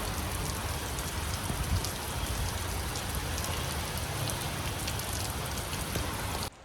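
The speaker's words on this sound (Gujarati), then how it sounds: "કેટલો જોરદાર વરસાદ પડે." Heavy monsoon rain pours steadily outdoors, a dense, continuous roar of drops hitting surfaces, loud and unbroken throughout with no voices before cutting off abruptly at the end.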